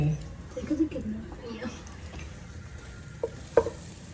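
Maida flour fries in butter in a kadai while being stirred, a faint low sizzle with soft scraping and a few sharp clinks of the spoon against the pan, under quiet speech.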